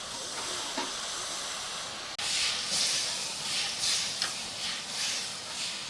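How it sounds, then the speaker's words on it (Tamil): Steady steamy hiss of water boiling in a pot for Mysore pak, with bursts of bubbling that swell and fade after a sharp click partway through; no voices. "தண்ணி கொதிக்குது, சர்க்கரை சேர்த்துடலாம்"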